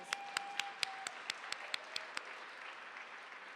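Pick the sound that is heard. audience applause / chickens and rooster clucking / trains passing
audience applause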